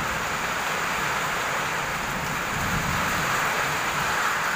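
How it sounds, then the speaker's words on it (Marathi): Rain falls in a steady, dense hiss across the whole stretch with no other sound and no talk, even and unbroken from start to finish. "मस्त वाटतंय, पाऊस पडतोय."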